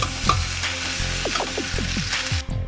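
Vegetables with potatoes and ground cumin are stirred and fried in a pan, a steady close sizzle broken by several scraping strokes of the spoon, with no talking.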